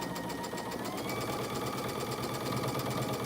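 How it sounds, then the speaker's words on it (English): A domestic sewing machine runs steadily, stitching quilt block pieces right sides together, its fast rhythmic needle clatter and motor whir continuous and close throughout with no talking. "taking the last two and sewing them together,"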